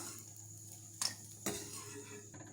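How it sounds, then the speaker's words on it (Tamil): Ginger and garlic being sautéed in a pan over a faint background hiss, with two sharp metallic clinks from a utensil striking the pan. "இப்போ இஞ்சி பூண்டு போட்டுக்கலாம். இது நல்லா வதக்கி எடுத்துக்கலாம்."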